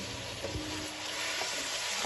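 Broth (yakhni) poured into a pot of mutton pulao with green chillies sets off a loud, continuous sizzle and bubbling hiss, close and steady with no voices.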